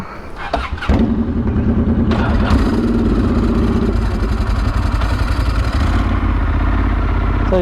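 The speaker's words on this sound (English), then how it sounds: "He's on his green machine. Such a cool bike. Sounds cool." A green motorcycle's engine starts with a clatter, then runs loud and close at a steady, throaty idle for several seconds.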